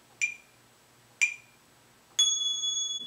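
Aeropress coffee app timer chiming to mark the next brewing step: two short bright pings about a second apart, then a sustained ringing tone, close and clear in a quiet room.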